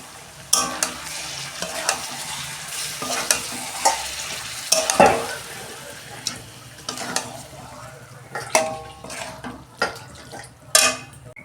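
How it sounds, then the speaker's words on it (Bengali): Spiced marinated chicken sizzles in a pan of fried onions for a home-style chicken kosha, with a steady frying hiss under repeated scrapes and clinks of a spoon stirring against the metal pot. "এই যে পেঁয়াজটা আমি ভেজে নিয়েছি, এবার এই মেখে রাখা মশলার মাংসটা আমি দিয়ে দিচ্ছি।"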